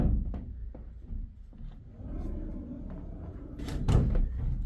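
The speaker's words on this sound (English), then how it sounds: "sliding doors." Sliding closet doors in a large cabin bedroom rolling open and shut, with several soft thuds and low rumbling glides, ending in a louder knock near the end; fairly close, no talk.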